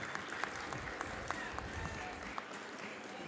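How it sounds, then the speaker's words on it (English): Steady, sustained applause from a crowd at a girls' school basketball playoff final, indoors, continuous clapping filling the space with faint voices underneath. "And rightfully a round of applause for Chloe Vella."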